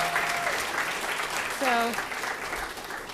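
Audience applause for the Spring Awakening cast at the White House, a steady broadband clatter of clapping filling the clip while a voice speaks briefly over it.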